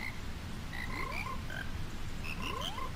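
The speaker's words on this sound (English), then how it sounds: "And you run over to where your little frogs are. They're going to sing us a little happy song here." Frogs in the video game The Legend of Zelda: Majora's Mask croak a short musical song, with rising croaks and bright tonal notes repeating in a melodic pattern over steady game background sound.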